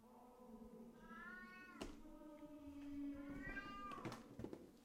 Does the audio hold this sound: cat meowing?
yes